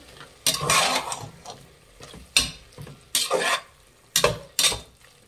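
Biryani masala and garam masala are stirred into a hot pan, giving repeated scraping strokes of a spoon against the pan with a light sizzle underneath, close and in uneven bursts.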